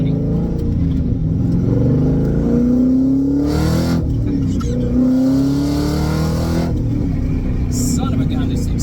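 A supercharged 600-horsepower Mazda Miata accelerates hard on a public road, its engine note climbing in repeated rising sweeps through the gears, loud and close throughout.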